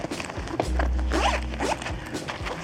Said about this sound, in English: you got a zipper that goes around, kind of like a camera bag